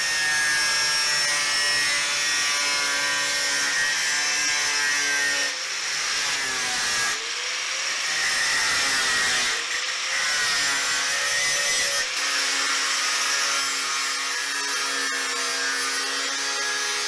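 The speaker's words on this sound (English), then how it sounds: "So we'll just cut out the metal to fit and start welding in." Sheet metal plate being cut to fit a cafe scrambler motorcycle build, a long loud shrill grinding rasp from a power tool with brief pauses and restarts.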